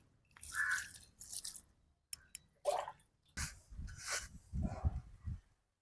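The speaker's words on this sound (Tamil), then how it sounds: "பனம் பழத்தை மேலால முதல்ல கழுவி கொள்ளணும்" Palmyra fruit being rinsed and scrubbed under water, giving uneven splashing and dripping bursts separated by short pauses, close by and fairly quiet.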